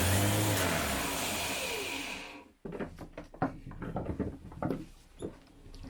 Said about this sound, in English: the motor, it's starting for a split of a second like this